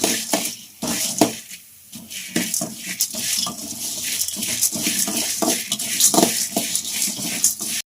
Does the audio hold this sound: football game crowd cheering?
no